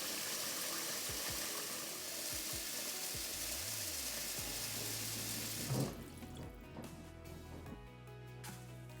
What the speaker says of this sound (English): After the last wash, rinse with water until it becomes almost clear.